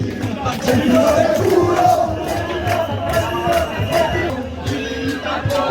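A dense protest crowd in Italy, heard from within the throng: a steady, loud wash of many voices and shouts that holds continuously without pause.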